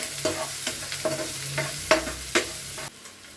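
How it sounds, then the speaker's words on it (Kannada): Onions fry in a pan with curry leaves, a soft sizzle punctuated by a regular series of sharp scraping stirs, about six strokes, close by, with no voices. "ಈರುಳ್ಳಿನ ಹಾಕೊಂಡು ಚೆನ್ನಾಗಿ ಫ್ರೈ ಮಾಡ್ಕೊತೀನಿ"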